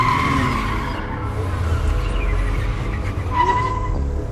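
A car skids with squealing tires in a parking lot, remote-controlled by hand gestures, its engine revving and the screech rising and falling close by, without voices.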